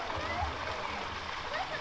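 A small waterfall at Middle Emerald Pool in Zion spills over sandstone in a soft, continuous splashing rush, faint and steady, with no voices over it.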